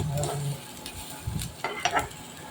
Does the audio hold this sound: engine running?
no